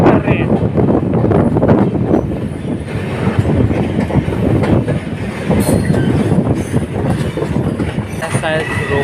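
A diesel passenger train on the Samastipur to Lucknow Charbagh route rolls steadily along the rails, its dense wheel rumble and rattle continuous and close, with faint wheel squeal now and then and a voice or two in the background.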